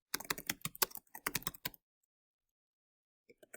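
Rapid typing on a computer keyboard while entering spreadsheet data, a quick burst of close, crisp key clicks lasting under two seconds, then near silence with a couple of faint taps.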